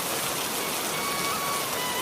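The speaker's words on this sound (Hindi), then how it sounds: "एक दिन काम पर जाते समय भारी बारिश होने लगती है" Heavy rain falling as a dense, steady hiss at full volume with no breaks, heard without any voices, as someone heads off to work.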